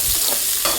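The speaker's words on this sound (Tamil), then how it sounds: "அதனால் நாங்கள் வந்து வெங்காயமும் காஞ்ச மிளகாவும் போட்டு தாளிச்சாச்சு." Onions and dried red chillies frying in hot oil for a Tamil tempering, a steady close sizzle with light stirring scrapes, no voices.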